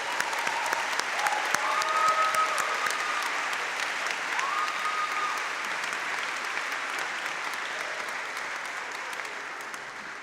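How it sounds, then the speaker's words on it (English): Sustained audience applause at an architecture school spring graduation honors convocation, a steady wash of many hands clapping in a large hall, moderately loud and fading slightly toward the end, with faint murmuring underneath. "a round of applause"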